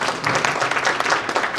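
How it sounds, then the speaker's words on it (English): Conference audience at a technology and innovation event clapping to welcome visiting principals, a continuous crowded patter of hands that holds evenly throughout. "Let's clap for them."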